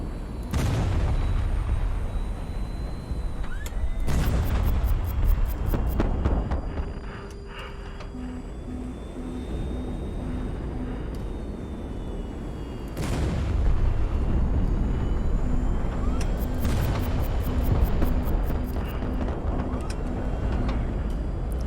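Enemy shots fired at a ship in the video game HighFleet, heavy booming blasts arriving in a few separate waves with rattling follow-ups and a low rumbling engine drone between them.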